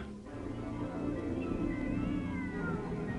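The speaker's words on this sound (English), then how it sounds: "A cat screams." A cat screams outside in the darkness of an empty theater at night, a drawn-out wavering yowl rising and falling over a steady low background, loud and continuous with no voices.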